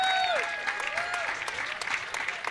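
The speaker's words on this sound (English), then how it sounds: "Give them one big round of applause." Steady crowd applause fills a ballpark at Jimmy John's Field during a Utica Unicorns versus Westside Woolly Mammoths game, with a PA voice and organ-like tones sliding over the clapping.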